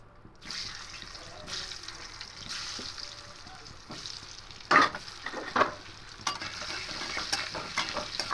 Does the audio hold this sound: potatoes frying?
yes